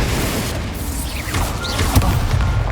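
Incendio fire spell cast in Hogwarts Legacy: a short whooshing sweep followed by a booming burst of flame near the end, loud and close, alone without talk.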